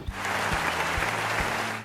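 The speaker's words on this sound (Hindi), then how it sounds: "अपने लिए तालियां" Short burst of audience clapping in a puzzle show setting, a soft even patter under a low rhythmic thumping tone that pulses roughly twice a second.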